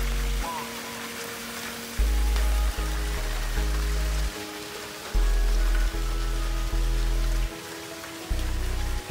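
Steady heavy rain hisses across the whole clip over a vegetable garden, with loud low thumping rhythmic tones pulsing over it.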